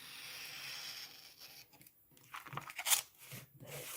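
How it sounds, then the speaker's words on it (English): Scissors or a knife cutting and trimming red card for a spinning heart card, heard as quiet, close crunching and rubbing snips, most active toward the end. "we're just going to cut around that using a knife or a pair of scissors"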